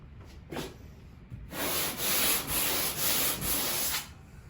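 Sandpaper rubs over a painted wall in a few steady back-and-forth strokes, each a broad, close, hissing scrape. The strokes follow a couple of quieter scratches and then stop.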